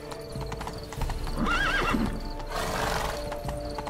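Horse hooves clip-clopping in The Witcher 3, a steady rhythmic trot up close, joined midway by a whinnying neigh, with no talking.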